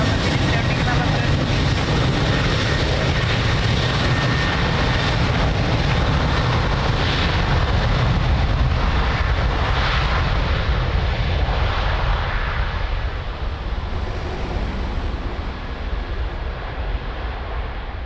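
An airliner at Lisbon Airport roars continuously on its takeoff roll, a broad loud engine rumble that eases slightly toward the end, with air traffic radio voices over it.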